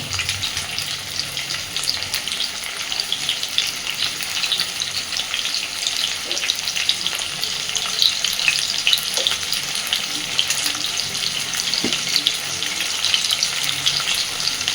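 Potatoes fry in a pan with salt being added, giving a continuous close sizzle that stays fairly even for the whole stretch with no talking.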